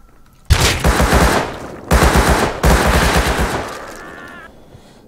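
Automatic gunfire in the survival game Rust during a raid: loud, close bursts of rapid shots in three long volleys separated by short pauses, fading toward the end.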